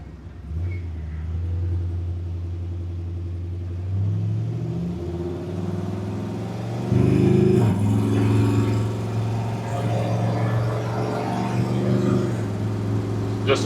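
A 1965 Chevrolet C10 truck with a classic patina, turn-key build, runs steadily with a continuous close engine rumble that swells as it accelerates partway through, with no one talking.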